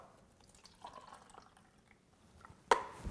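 Water used to wash lemons is poured out, a faint trickle and drip that ends in a sudden louder splash near the end.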